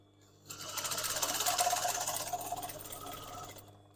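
A sewing machine stitching a fabric gift bag runs in a fast, even rattling burst for about three seconds, close and clear, starting after a quiet moment and slowing slightly toward the end.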